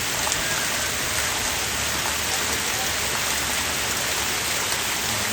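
Steady, dense rain from the first rainfall of the season in Savarkundla, a continuous even hiss of drops striking surfaces close by, holding constant throughout with no voices.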